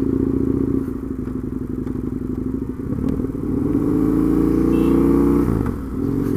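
A Husqvarna Nuda 900R motorcycle being ridden, its engine droning loud and close with rising and falling revs, a brief dip as a gear is changed, then pulling hard again.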